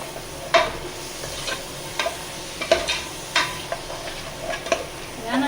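Sliced onions and four green chillies sautéing in oil for homemade biryani, with a continuous bright sizzle and regular spoon-scraping stirs against the pan at close range.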